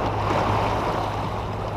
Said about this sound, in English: See the waves from over there.